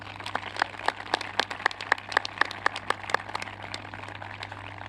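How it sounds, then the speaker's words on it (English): Scattered audience applause at a high school graduation ceremony, with distinct individual claps in an uneven rhythm at moderate distance over a steady electrical hum. "Let's give them a round of applause."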